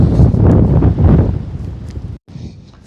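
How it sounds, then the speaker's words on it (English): Strong wind buffeting a microphone on a hilltop in Centralia, Pennsylvania, loud broadband gusts for about two seconds, a brief dropout, then quieter rumble. "Top of the hill is quite windy here."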